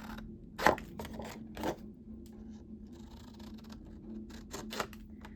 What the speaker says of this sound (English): I never used these to cut my cardstock